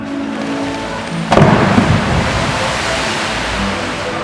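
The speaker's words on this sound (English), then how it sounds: "killer whales can communicate by leaping out of the water and making a huge splash" A killer whale breaches and crashes back into the pool during an orca show at SeaWorld San Antonio, a single loud splash rising out of steady rushing water noise and then washing away.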